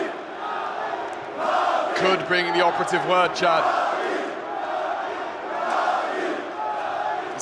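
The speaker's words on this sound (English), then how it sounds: "the crowd starting to get louder and louder here" An esports arena crowd at a Counter-Strike major tournament roars steadily, swelling into cheers and chants beneath a caster's excited commentary.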